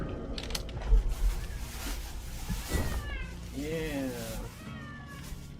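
A cat meows repeatedly in drawn-out, complaining cries. A person speaks throughout and mechanical noise hums underneath.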